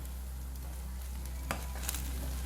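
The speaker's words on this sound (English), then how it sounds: "So now I'm just going to stir," Minced beef fried rice stirred in a hot pan gives a steady, close sizzle and frying hiss, with a couple of brief scraping stirs standing out near the end; no voices.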